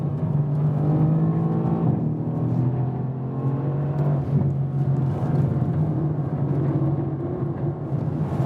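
A Mercedes-AMG C63 S Coupé with a 510 hp V8 being driven hard and sliding on a racetrack, its engine droning and revving steadily at high load from inside the cabin, loud and continuous with no talk.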